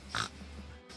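A person imitates a pig's oink during a two-player Agricola board game session: one short nasal snort-like grunt, close and fairly quiet, followed by faint room sound.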